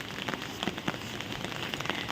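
Rain falling on a lane in a Bengali neighbourhood, a steady dense patter of drops striking nearby surfaces, with scattered louder splats throughout and no speech.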